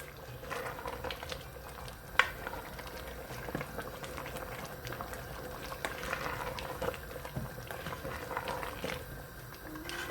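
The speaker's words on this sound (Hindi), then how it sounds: "अब हम चनों की अच्छी तरह से इसकी भुनाई करेंगे।" Brown chickpeas (kala chana) roast in a pan with chili powder, giving a steady close bubbling sizzle broken by a few sharp ticks and scrapes, with no talking.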